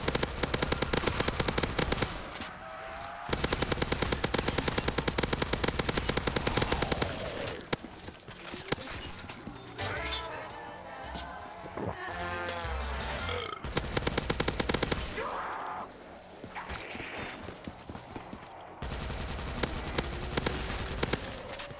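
Weapons fire in a Call of Duty Black Ops 3 Nuketown match, with long bursts of loud automatic gunfire alternating with shorter volleys and game sound effects, no talking.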